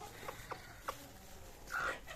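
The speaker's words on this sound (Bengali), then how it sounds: "ওই মুরগিগুলো শর্ট শর্ট করতেছে" Chickens cluck faintly in short, scattered clucks over a noisy background, with a slightly louder call near the end.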